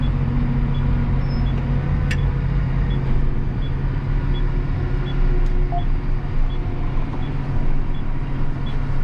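A vehicle towing a fertilizer cart drives along in spring, a steady low engine and road rumble throughout with faint intermittent ticking above it.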